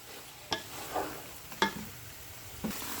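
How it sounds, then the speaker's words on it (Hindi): Grated carrot halwa with raisins roasting in a pan while being stirred, with a steady soft sizzle and a few sharp clinks of the spoon against the pan, no talking. "बस इसकी थोड़ी सी भुनाई रहती है, बिल्कुल हमने ब्लैक नहीं करनी है, बस थोड़ी सी भुनाई।"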